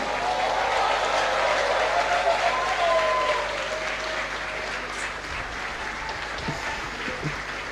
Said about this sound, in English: If you think you can clap, clap.